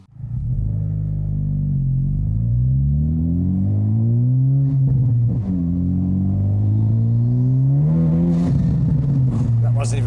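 A 600-horsepower Honda Civic Type R engine roars under hard acceleration with rising and falling rev sweeps and gear changes, loud and close from inside the car, while a person talks over it.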